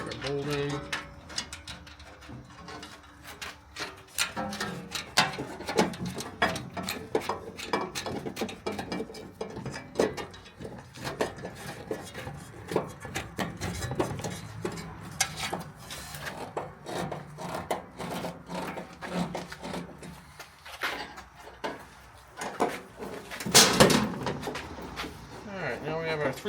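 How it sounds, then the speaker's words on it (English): Bolts being fastened on a mountable shelf for a Ford Bronco trunk door, with intermittent ratcheting clicks, metallic rubbing and knocks, and a louder burst near the end. "Right here, start our bolting."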